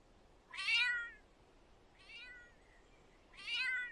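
A cartoonish cat in a video game meows three times, two bright, loud calls with a softer one between them, each well separated against a quiet background.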